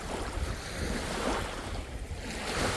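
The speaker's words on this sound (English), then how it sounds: "the waves coming in?" Waves wash in continuously on a lake beach at Six Mile Lake, a dense rolling roar of surf mixed with heavy wind buffeting the microphone, with no voices.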